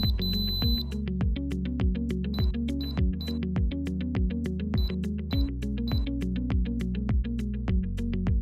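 A NuWave PIC Flex Pro induction cooktop sounds a sequence of short, bright electronic beeps, some falling in pairs, repeating in a regular pattern close to the microphone over a low hum.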